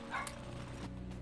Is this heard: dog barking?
yes